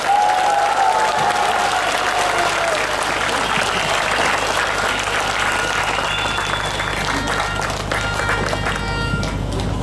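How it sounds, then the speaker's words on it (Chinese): Loud, sustained applause from an audience at a political speech in a Johor coffee-shop forum, dense clapping filling the whole stretch alongside crowd noise and occasional cheers. "掌声表示鼓励。"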